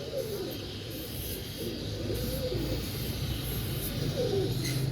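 Insaan Teddy pigeons cooing softly in a loft, low repeated burbling coos under steady background noise, fairly close but not loud.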